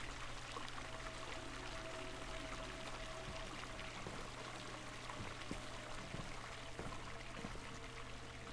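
Clear water pouring and trickling in the horror video game Eleusis, a soft continuous stream over a steady low hum with occasional faint knocks, quiet and unbroken with no talking.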